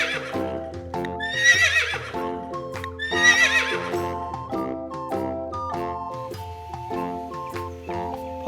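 A horse gives two loud, close whinnies with a clip-clop of hooves beneath, all over steady background music.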